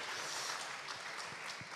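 An audience gives brief applause after a presentation, a soft, quick patter of clapping heard from a distance for under two seconds.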